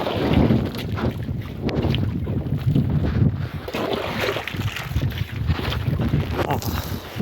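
Strong wind over a sesame field where buffaloes are being bathed, buffeting the microphone in rough gusts, with a low rumble throughout and a voice briefly heard underneath.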